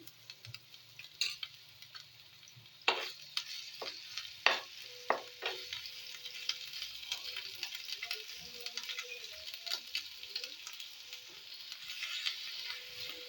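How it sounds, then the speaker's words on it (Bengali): Ginger paste with salt frying in hot oil, a steady spattering sizzle with sharp crackling pops and quick stirring scrapes, loudest early then settling into a continuous fizz. "নুন দিলে চিটকানোটা একটু কম হয় নাহলে চিটকে চিটকে হাতে আসছে"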